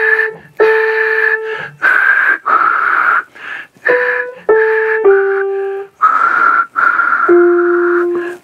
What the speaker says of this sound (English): this is like kind of a half whistle